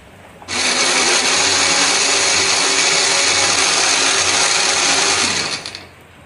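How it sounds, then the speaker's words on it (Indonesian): A blender grinding spices with a little water or oil roars steadily for about five seconds, a loud dense whirring grind that starts abruptly and winds down at the end. "Di sini aku akan menghaluskannya menggunakan blender."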